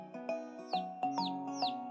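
Cartoon birds chirp in a quick, repeated pattern of bright tweets over a soft musical background, clear and close with no talking.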